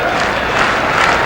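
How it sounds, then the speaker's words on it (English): A large basketball crowd in Seattle's Kingdome, at a 1979 SuperSonics versus Rockets game, claps in rhythm, a loud, dense, steady wash of applause filling the arena. "Rhythmic applause here by this large crowd in the Kingdome"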